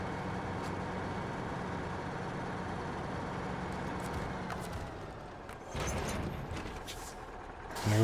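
A truck in the video game SnowRunner detaching its trailer, a steady engine drone followed by a sharp hiss of air brakes and a short burst of mechanical clatter near the end.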